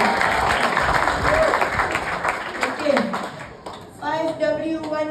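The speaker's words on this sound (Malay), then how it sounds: "Berikan tepukan pada Malaysia Selatan." Audience applause at a network marketing business talk in Malaysia, steady clapping from a crowd under an amplified voice, then the clapping thins out as the speaking continues.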